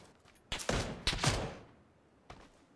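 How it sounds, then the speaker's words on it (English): Video game gunfire comes as a short burst of several sharp, closely spaced shots, followed after a pause by one more distant-sounding report, moderately loud with quick echoing decay. "Shooting at me from that building there."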